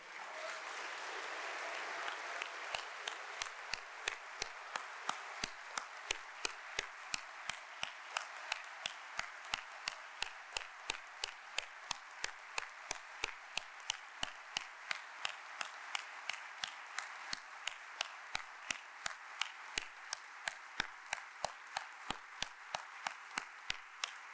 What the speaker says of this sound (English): I would please ask everybody to stand for a little applause for someone we can all look up to